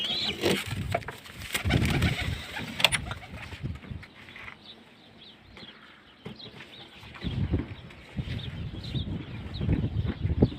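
Pigeons cooing close by in a bird enclosure, repeated soft throaty calls with some rustling and movement between them, no talk.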